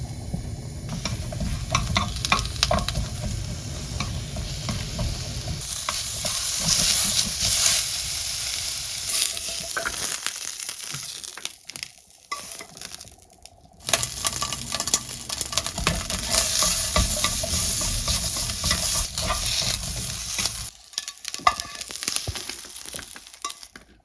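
Fish cake stir-frying in oil for eomuk gimbap, a continuous close sizzle and crackle with constant scraping and stirring, briefly dropping out twice before resuming at full strength.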